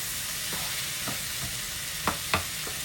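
Tomatoes sauté in a pan for small-onion sambar, giving a soft continuous sizzle with a few light stirring scrapes and two sharper clinks toward the end, heard close and without speech.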